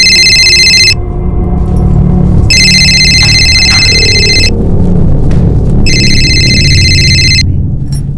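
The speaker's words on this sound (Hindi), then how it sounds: "तुम्हारा फोन बज रहा है।" A mobile phone rings loudly and close by in three long bursts of a bright electronic ringtone, separated by short pauses, with a faint room hum underneath.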